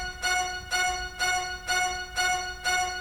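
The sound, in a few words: DSK Strings cello section F playing short quick hits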